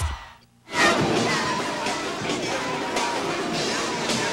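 A basketball crowd at an NCAA Division II championship game roars loudly and continuously in an arena, a sustained wash of cheering after a brief quiet start.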